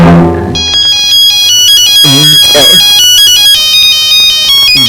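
A mobile phone rings loudly with a bright, repeating electronic melody, and a voice speaks briefly over it partway through.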